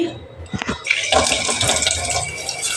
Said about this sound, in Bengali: চাল ধুয়ে নিই